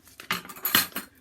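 A metal teaspoon adding yeast clinks and scrapes against a dish a few times in quick succession, close and bright.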